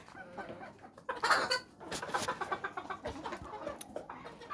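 Hens clucking close by in a steady chatter, with a few sharper squawks breaking out among them.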